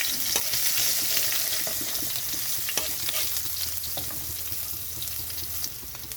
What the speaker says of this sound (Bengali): তো এখানে রসুনটা একটু ভাজা হয়ে গেছে।